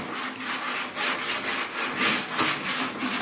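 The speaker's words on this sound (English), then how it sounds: "I know it's really hard to keep that perfectly parallel and sand back and forth at a 45." Close, steady block sanding by hand: rhythmic back-and-forth rasping strokes at a regular pace over a few seconds, with no voices.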